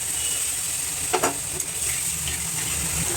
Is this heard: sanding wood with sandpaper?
no